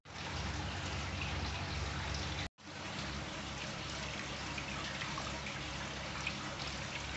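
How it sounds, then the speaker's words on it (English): Treated tap water pours steadily into a reptile tank, a continuous close trickle and splash that stops briefly and then resumes without speech. "So we'll top it back up now with some treated tap water"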